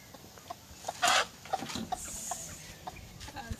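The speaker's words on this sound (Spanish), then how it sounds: "La gallina se le escapa." A hen being chased gives a short flurry of clucks and squawks, one louder burst then scattered faint calls over a rustling outdoor background, no talking.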